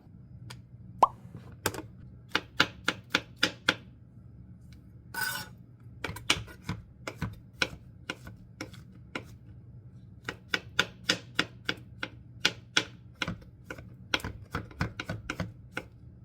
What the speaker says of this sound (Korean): 양송이 버섯은 이렇게 밑둥을 제거하고 흐르는 물에 살짝 씻어서 칼로 다져줄게요